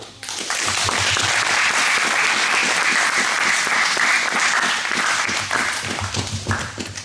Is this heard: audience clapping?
yes